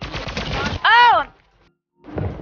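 Gunfire bursts in the Fortnite video game, a short rapid volley cut off by a sharp synthetic tonal sweep, then silence and another burst, with excited voices shouting over the action.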